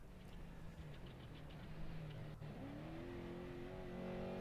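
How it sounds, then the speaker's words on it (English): Off-road race truck competing in the SCORE Baja 500 with BFGoodrich tires, its engine droning steadily and then rising in pitch as it accelerates, heard from a distance beneath faint wind noise. "Engine roaring."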